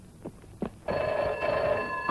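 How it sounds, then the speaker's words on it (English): Telephone bell ringing indoors, a couple of soft knocks followed by a loud, sustained metallic ring. "Answer the phone, boy."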